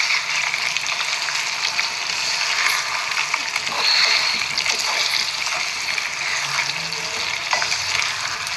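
Brinjals frying in a pan for a home-style Telugu stuffed brinjal curry, turned slowly with a spatula, giving a steady close sizzle with light scraping clicks throughout.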